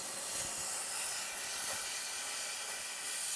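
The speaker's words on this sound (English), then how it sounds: "just be careful of the steam" Steady, faint hiss of steam rising while thick grease is cleaned inside a Ninja Foodi XL Pro Air Oven, continuous and without talk.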